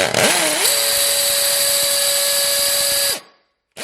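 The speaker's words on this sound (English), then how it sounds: "now we're going in hammer mode" A hammer drill drills into concrete at full speed for about three seconds, a loud steady high-pitched whine over gritty grinding, then cuts off abruptly.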